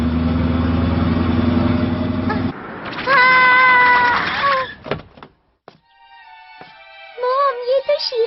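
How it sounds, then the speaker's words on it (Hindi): Cartoon cat meowing in a Hindi-dubbed Doraemon episode, several drawn-out, wavering meows after a low engine-like hum, loud and close with pauses between. "मैं तो बिल्ली बन गई।"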